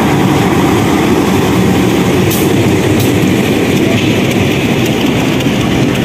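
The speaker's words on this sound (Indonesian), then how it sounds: "Noneng, kereta Noneng." A train rumbles steadily through Indihiang railway station in Tasikmalaya, a loud, continuous roar with faint clattering and brief high squeals throughout.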